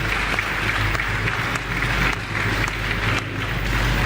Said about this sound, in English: I want to join me for clap for the people of Makeni